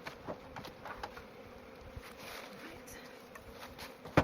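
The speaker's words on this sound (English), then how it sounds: "Oh yeah, a lot of bees in that hive." Honeybees humming inside a healthy hive coming out of winter, a faint, steady insect drone with no clear breaks over quiet background noise.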